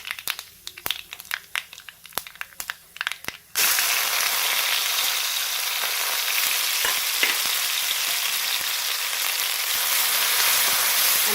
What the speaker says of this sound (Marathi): हे आपल्याला कमी गॅसवरती छान असं परतून घ्यायचं आहे